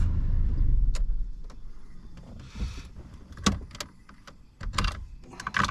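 An Audi A3 8L 1.8T being switched off, with a low engine rumble dying away beneath several sharp clicks and mechanical knocks from the cabin, heard close up without talk.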